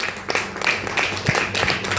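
Several people clap in a quick, uneven patter, moderately loud, with no talking.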